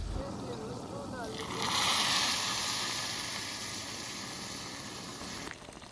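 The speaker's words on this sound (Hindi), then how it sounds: "अब इसके अंदर दूध डाल देती हूँ" Milk poured into a pan of roasted vermicelli gives a steady, hissing pour in the kitchen that swells for a few seconds and then eases off, with someone speaking in the background at the start.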